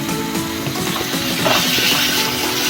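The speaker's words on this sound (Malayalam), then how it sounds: "നന്നായിട്ട് ഇളക്കി കൊടുക്കാം. ഇപ്പം നമ്മുടെ ഒനിയൻ ഏകദേശം സോട്ടായിട്ടുണ്ട്." Onions with salt are sautéed and stirred in a pan, giving a loud, steady sizzle with scraping stir strokes throughout and no speech.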